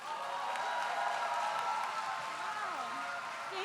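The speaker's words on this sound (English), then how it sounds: "please join Walter and me in giving a warm welcome and a big round of applause" Audience applause at a graduation class day awards ceremony, soft and somewhat distant, with voices talking over it.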